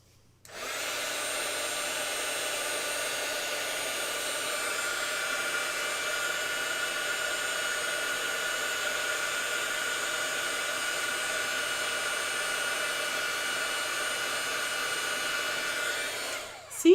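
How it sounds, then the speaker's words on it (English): An embossing heat tool blows hot air in one steady, loud, high-pitched whooshing drone lasting about sixteen seconds. It switches on abruptly near the start and off at the end, with no talk. "heat tool."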